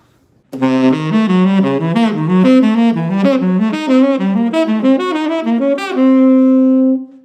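An arpeggio exercise alternating between two chord shapes runs as a rapid, steady stream of picked notes rising and falling, played loud and close with no talk, and closes on one long sustained note.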